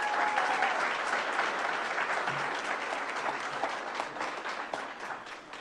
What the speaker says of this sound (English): Everyone give Coach Schnellenberger a big round of applause